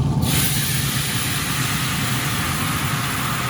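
Loud, continuous sizzling hiss of a tequila and lime liquid hitting a hot pan before pork chops go in, starting abruptly and holding steady.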